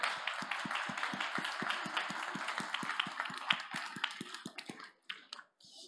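An audience at a startup contest award ceremony claps in a steady, even rhythm, many hands striking together at a quick regular beat before the clapping breaks up and trails off.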